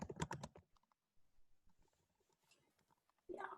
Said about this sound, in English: Yeah, I hear you're typing.